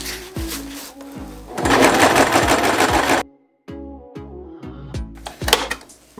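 A sewing machine stitches a sailcloth bag under repair in a shop, with loud rhythmic needle clatter in two runs, a brief pause, then start-stop bursts of stitching and clunks.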